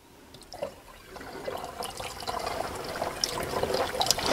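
Used EvapoRust rust remover is poured back into a jug through a small funnel with a strainer, making a trickling, gurgling liquid sound that builds steadily louder, close and without talk.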